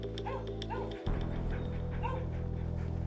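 A police K9 dog yips and barks several times, short repeated calls at mid distance over a steady low hum that cuts out abruptly partway through.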